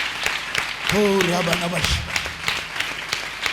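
A church congregation at a prayer center claps loudly in thanks to God, dense steady clapping throughout with a sung or called-out voice rising over it partway through.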